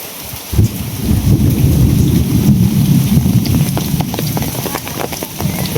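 Heavy rain pours steadily in a sudden thunderstorm, with a dense roar of downpour on surfaces and low rumbling thunder throughout, close and loud.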